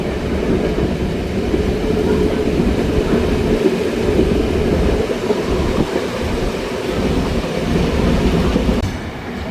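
A passenger train on the newly reopened service to Jaffna runs along the rails at about 89 km/h. A steady, loud rumble with a rattling clatter of wagons continues without a break.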